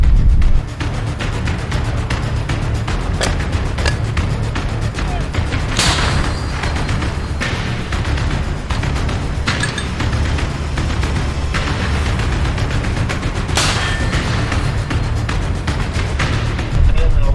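Heavy outdoor rumble with a few sharp, loud blasts of artillery fire near Sviatohirsk, Ukraine, including one around the middle and another later, amid a low continuous drone.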